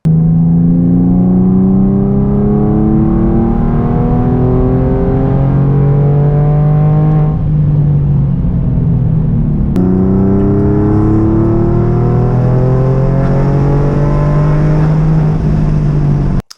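A rebuilt 3.8L engine on a dyno makes a loud, sustained pull from about 3000 to 6000 RPM. Its droning tone rises steadily, drops back once, then climbs again before cutting off abruptly.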